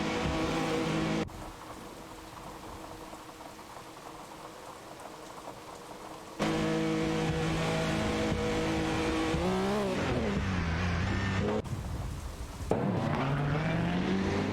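Race car engines roar in an AI-driven racing video game, with a Chevrolet Intrepid RM1 and a Mazda 787B dueling as a continuous loud drone that rises and falls in pitch between abrupt cuts.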